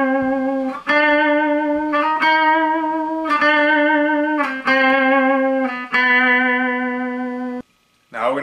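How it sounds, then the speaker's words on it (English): Several sustained guitar notes ring out one after another with vibrato, the wavering growing more pronounced in later notes, clear and close with a little reverb. "So here's soft and subtle, and here's wide vibrato."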